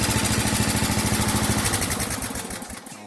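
A racing lawn tractor's small engine, being run in after a rebuild, runs steadily with a rapid, even putter close by, then slows and quiets toward the end.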